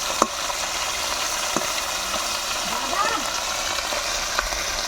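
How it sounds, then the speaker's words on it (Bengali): Fish frying in a pan over a wood-fired stove gives a steady, close sizzle with a few small pops and clinks, while voices talk faintly in the background. "এখানে তাড়াতাড়ি মাছ ভাজা হয়ে যাবে"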